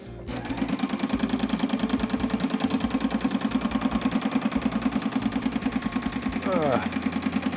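An industrial sewing machine stitches webbing nonstop, a fast, even mechanical chatter with a steady motor hum that runs unbroken and close.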